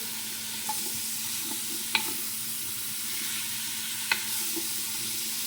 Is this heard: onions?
yes